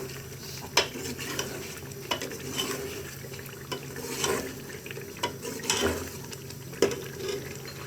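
Deghi palak gosht sautés in oil in a pot, a soft steady frying hiss with intermittent spoon scrapes and a few louder clanks against the metal, close and moderate in level without speech.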